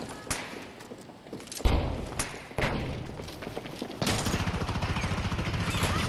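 Grenade blasts in Battlefield 2042 gameplay crack out as heavy thuds amid dense gunfire and combat noise, with a big booming impact near the start and another loud hit later, followed by sustained rumbling fire.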